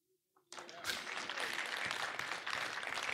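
An audience breaks into loud, sustained applause for a couple named Ted and Gail, starting abruptly after a brief quiet moment and continuing steadily to the end.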